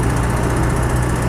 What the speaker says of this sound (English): we've got a slight exhaust blow from the manifold area